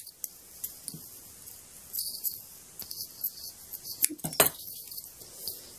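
Scissors cut tied string on a handmade craft, with a few sharp close snips among light clinking and handling noises.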